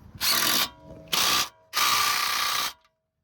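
Ratchet wrench tightening an 18mm strut nut on a 2014 Mercedes CLS550 4Matic: three close, loud bursts of rapid clicking, the last one longest, separated by short pauses.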